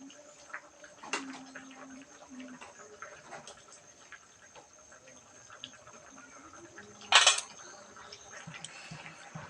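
A spoon scrapes and clinks in a pan of green-chili papaya curry, with scattered soft ticks and taps and one louder brief scraping clatter, all fairly quiet against a faint steady hum.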